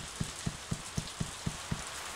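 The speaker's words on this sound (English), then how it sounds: "We should bring our cow in, she's out in the rain." Rain falls in the farming game SOS A Wonderful Life, with soft, evenly spaced taps sounding about every quarter second over a faint steady hiss, and no talking.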